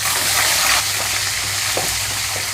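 Green chillies frying in a pan with fried lentils for tomato chutney give a loud, steady, close sizzle throughout, with faint stirring touches and no voices.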